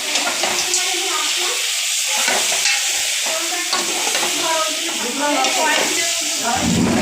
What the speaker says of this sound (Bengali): দেখো ম্যারিনেট করে মাংস ঢেলে দিচ্ছে।